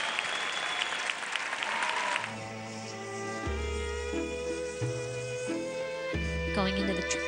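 Arena crowd applauding a figure skating short program by 17-year-old Courtney Hicks at the 2013 U.S. Championships in Omaha, a steady wash of clapping that carries under music and talk.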